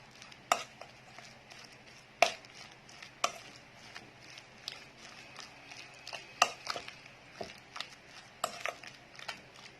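A spoon stirs a seasoning mixture with ground black pepper and salt for a chicken sandwich filling, giving scattered clinks and scrapes against a bowl at an uneven pace, close and fairly quiet.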